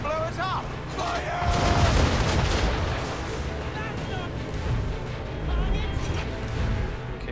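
Ship cannons fire during a naval battle in Assassin's Creed 3, a loud rolling barrage of booms and crashes that peaks early and keeps rumbling, with voices calling out in the mix.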